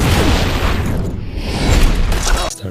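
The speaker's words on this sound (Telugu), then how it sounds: "ఆ పేలుడు వల్ల మెడోసా కొన్ని క్షణాల పాటు బలహీనపడుతుంది" A large explosion from Clash of the Titans, where a soldier blows himself up while fighting Medusa: a dense, loud, rumbling blast that fills the whole clip without a break, then cuts off abruptly near the end.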